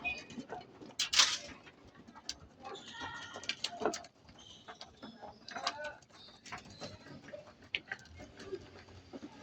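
Pigeons in a loft peck at grit and oregano, close irregular tapping and pecking clicks mixed with soft cooing and fluttering, fairly quiet overall, with no talking.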